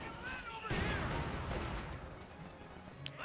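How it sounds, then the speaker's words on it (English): Artillery fire in the World War II strategy game Company of Heroes 2 booms and crashes in a dense burst, loud and close, over game ambience and a voice commentating. "Artillery fire against the Volks Grenadiers."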